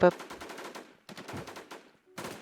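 Enemy gunfire in a shooter video game, rapid bursts of closely spaced shots in two runs separated by a short pause, fairly loud and near.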